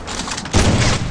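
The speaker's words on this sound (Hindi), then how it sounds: "ज्ञान भाई की गोलियां दीवार पे क्यों लग रही है?" Dense, rapid bursts of video game gunfire in Free Fire that jump louder halfway through, a continuous crackling volley close up with no voices.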